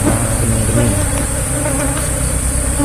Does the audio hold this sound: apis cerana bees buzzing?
yes